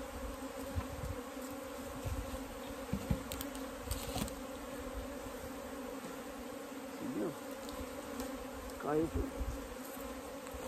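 Bees swarm and buzz steadily while a cluster of them is lifted into a new hive box, a dense continuous drone close by with faint handling noises and brief quiet speech.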